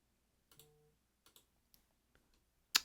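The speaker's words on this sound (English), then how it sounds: "You're gonna hear a bunch of mouse clicks because it's the world's loudest mouse." A loud computer mouse gives a handful of sharp, isolated clicks at irregular intervals in a quiet room, the last click the loudest.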